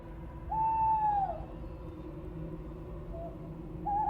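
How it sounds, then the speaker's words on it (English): A soundboard plays a short owl hoot, a clear drawn-out call followed by a softer echo and another brief hoot near the end, over a quiet low hum from a game stream. "It's a little hoot from an owl."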